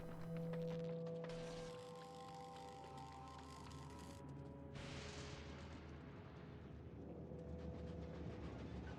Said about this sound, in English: Why is only one side of this train loading?